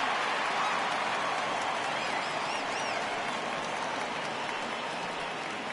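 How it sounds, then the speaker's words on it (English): A home crowd gives a sustained ovation in a Red Sox versus Orioles baseball video game, a steady wash of applause and cheering at an even level throughout, with no clear voices above it. "So he receives a nice ovation from this home crowd"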